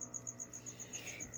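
Feeder crickets chirp steadily in an even pulse, faint and continuous, over a quiet low background hum.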